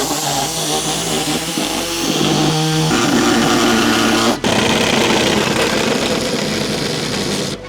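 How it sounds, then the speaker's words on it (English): An air saw cuts through the steel body panel of a GWM Cannon Alpha ute. It makes a loud, buzzing reciprocating rasp close up, and the pitch shifts as the blade loads and frees before a brief break, then the cut resumes. "now we're gonna get the air saw in there and let's cut it."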